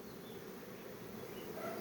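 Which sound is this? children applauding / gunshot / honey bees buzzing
honey bees buzzing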